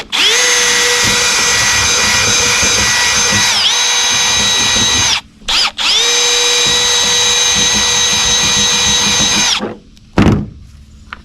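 Power drill boring three holes for a Nucanoe Unlimited kayak anchor mount with 1/4 inch screws: a loud, steady whining motor in two long runs with brief pauses between, then a short final burst, with no talk.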